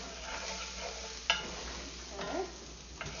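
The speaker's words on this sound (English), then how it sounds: "So I'm going to stir that in." Curry sauce with ginger, garlic and curry powder stirred in a pan, a quiet, soft sizzle with a single sharp utensil knock and a few faint scrapes.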